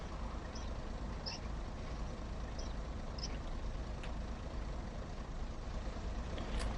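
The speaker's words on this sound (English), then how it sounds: "So this one will sound like your average typical Pacer, but it will sound more like a bus" Steady, broad rumble of a TL11 Pacer diesel train engine in the Train Sim World 6 video game, droning like a bus at constant loudness with a few faint clicks and hisses on top, no talking.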